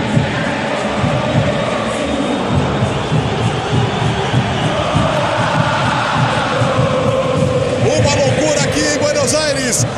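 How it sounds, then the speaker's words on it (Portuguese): Dense roar of River Plate supporters packing the Monumental stadium for a match against Atlético MG, a loud continuous crowd wash with rhythmic chanting swells and no clear break throughout. "Sobe o som para essa linda torcida no River Plate aqui."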